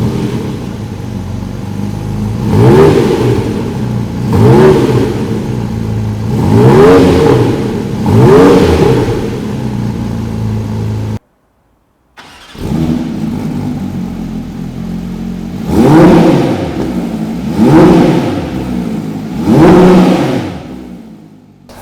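Porsche 992 GT3 RS and 718 GT4 RS engines are revved while parked, loud repeated blips rising and falling in pitch in regular bursts, with a short silent break between two runs of revving.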